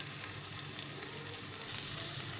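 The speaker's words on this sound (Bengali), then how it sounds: "এবার সমস্ত মশলাগুলোকে ভালোভাবে তেলের সাথে কষিয়ে নিতে হবে।" Coriander and red chili powder frying in hot oil for paneer bhurji, a steady soft sizzle that holds evenly throughout without any talking.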